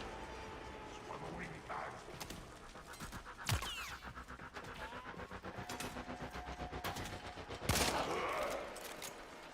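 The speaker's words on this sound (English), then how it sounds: "who the hell is shooting at me?" Gunfire in Warframe crackles in scattered bursts amid a busy game mix, with sharp loud shots near 3.5 and 7.7 seconds over a rattling, rapid-fire texture and muffled background noise.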